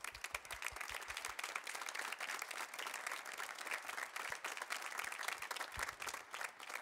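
An audience claps for a guest conductor at a university symphonic band concert, a steady, fairly faint wash of applause sustained throughout with a few sharper claps standing out near the front.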